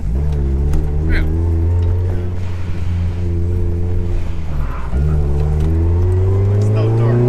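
Supercharged Mazda MX-5 engine revving up twice in strong, steady pulls with a short drop between them, loud and close, with harmonics climbing as the revs rise.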